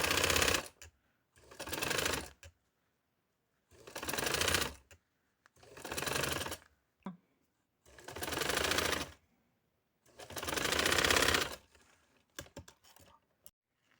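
Sewing machine stitching piping onto fabric in close, loud bursts of rapid whirring, about six runs of a second or so each separated by short pauses, ending with a few brief clicks.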